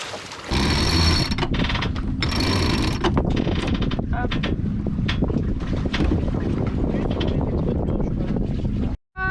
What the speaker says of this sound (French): le vent se lève enfin un petit peu